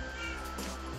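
A pet cat gives a short, close meow, a single drawn-out call of about a second over a steady background hum.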